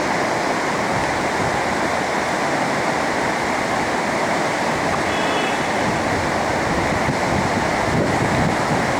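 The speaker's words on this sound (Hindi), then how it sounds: "ये संगम का स्थान है और ये सामने से दोनों नदियाँ साथ में मिलके बह रही है।" Rushing water of the Alaknanda and Mandakini rivers meeting at the Karnaprayag confluence, a steady, loud, broadband roar of flowing current with wind buffeting, continuous throughout and no talking.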